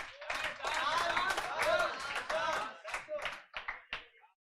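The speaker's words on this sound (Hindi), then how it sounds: "एक बार तालियां बजाएंगे लोगों के लिए बेटा" Students in a CA Inter GST lecture class clap together for a few seconds, the clapping mixed with overlapping voices and then thinning into scattered claps before stopping.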